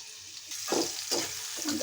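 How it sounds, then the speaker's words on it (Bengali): Onions hit hot oil left over from frying fish, giving a short burst of crackling sizzle that swells in a few quick surges as they are stirred, close and fairly quiet. "মাছ ভাজা তেলটাতে আমি পেঁয়াজটা বেরেস্তা করে নিব।"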